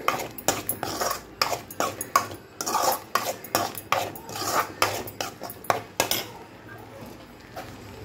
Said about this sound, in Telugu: ఇప్పుడు పొడి వేసాం కదా, దాని పచ్చివాసన పోయే వరకు ఫ్రై చేసుకుందాము